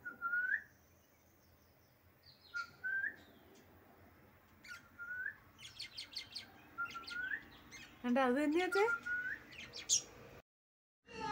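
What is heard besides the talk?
pet parrot chirping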